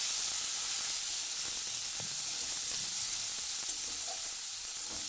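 Chopped tomato hits fried onion in a hot pan, giving a steady close sizzle and hiss with faint stirring clicks and scrapes throughout.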